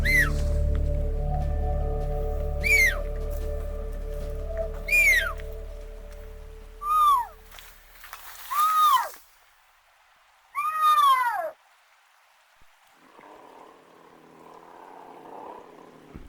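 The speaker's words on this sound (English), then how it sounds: "I believe this was 2 young cougars calling back and forth to each other" Two young cougars calling back and forth beside a mountain trail on Mount Adder, several rising, wailing cries spaced apart over a low background hum, some loud and near, others fainter.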